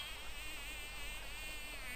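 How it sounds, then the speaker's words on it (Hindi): Cartoon mosquitoes whine steadily on a rooftop at night, a thin high-pitched buzzing that holds without a break for two seconds, close and fairly faint, with no voices. "यहाँ मोटे मोटे मच्छर हैं, मुझे काट रहे हैं"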